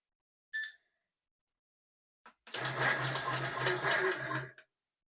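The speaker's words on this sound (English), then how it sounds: "So I'm going to do some tie-off stitches." Sewing machine stitching tie-off stitches on a pillow sham: a short beep, then a steady, close motor whir with rapid needle stitching lasting about two seconds before stopping.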